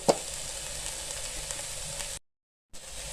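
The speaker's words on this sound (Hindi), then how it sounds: "अब हम इसको 2 मिनट तक हल्का हल्का भूनेंगे" Chicken filling fries lightly in a pan, giving a soft, steady sizzle after a single clink. The sound drops out briefly to silence partway through, then the sizzle resumes; no one speaks.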